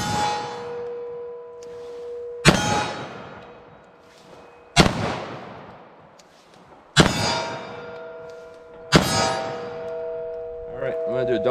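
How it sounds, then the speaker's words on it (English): Single shots from a .40 S&W pistol crack out one at a time, four sharp blasts each followed by a ringing metallic clang off a steel target and a long echoing decay, with speech faintly between shots. "I'm going to see if I can just land a shot on target after flipping that safety off."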